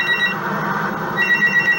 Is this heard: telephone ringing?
yes